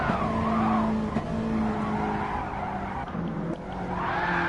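A GT1 race car spins and skids on the exit of turn 4 in a racing video game, its engine droning loudly with tire squeal throughout, with no talking.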